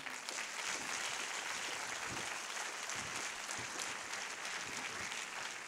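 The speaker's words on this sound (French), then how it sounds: "nos webmasters, Christophe et Alaric, on peut les applaudir" Faint, distant audience applause at a festival opening ceremony, a steady wash of many hands clapping evenly across the whole span without a clear peak or pause.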